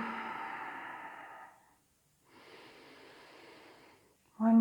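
Deep, slow breaths during a gentle yoga class: a long audible exhale, a short pause, then a second softer breath, followed by the start of another inhale, close and clear with no talking.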